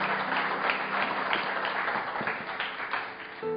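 A church congregation applauds steadily for new volunteers serving that day, a dense, even patter of many hands lasting a few seconds, with faint sustained musical tones underneath.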